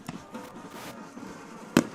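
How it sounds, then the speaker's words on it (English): Fireworks burst at a high school football game, Lehighton at Palmerton, with one sharp loud bang near the end over a murmuring crowd and scattered faint pops. "And more fireworks."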